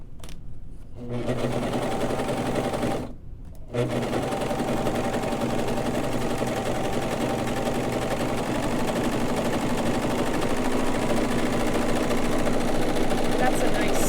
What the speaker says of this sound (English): put the foot down, and we're going to serge